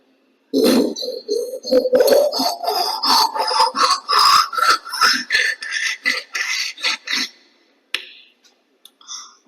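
A voice imitates a plumber sawing through a PVC pipe: a fast run of rasping back-and-forth strokes, loud and close, with a short pause before a few final scrapes.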